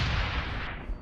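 Frag grenade blast in Deus Ex: Human Revolution, a single loud, close boom with heavy low rumble that stays dense and rolling for the whole second, no voices over it.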